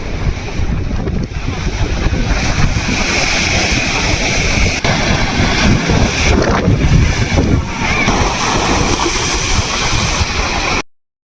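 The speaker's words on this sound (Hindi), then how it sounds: "यार ये वेव्स की आवाज़ कितनी अच्छी लगती है यार" Ocean waves wash onto a beach at a sunset point near Kanyakumari, a steady, close roar of surf mixed with heavy wind buffeting the microphone, continuous throughout with no voices.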